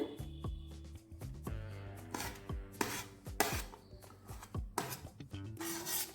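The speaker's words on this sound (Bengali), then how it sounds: "তো এইভাবে আমি মোচাটাকে কেটে নিচ্ছি" A knife chops through a banana flower (mocha) on a cutting surface in a series of quick, close, crisp cuts with soft rubbing and scraping between strokes, fairly quiet, against a faint background tone, with no voices.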